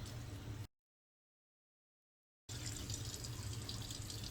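Tap water runs steadily into a sink to wet a washcloth during an evening skincare routine, a continuous splashing hiss that stops abruptly for about two seconds of silence before resuming just as strongly.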